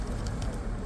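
Pigeons at an outdoor pigeon market in Radom, Poland, a soft, low cooing blended into a steady crowd-and-traffic murmur, brief and moderately faint.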